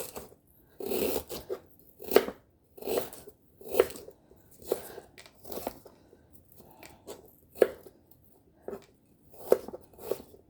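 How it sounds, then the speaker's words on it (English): A knife chops red onions on a board in a series of crisp, separate cuts, roughly one or two per second, close and clear over near silence. "I'm going to cut up more red onions in there"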